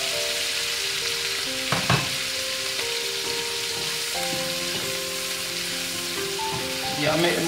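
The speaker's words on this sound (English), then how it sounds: "make them go and stir fry a little bit." Lobster heads stir-fry in a pan with curry, a steady loud sizzle throughout, with occasional clanks of a utensil stirring; a voice is faintly audible.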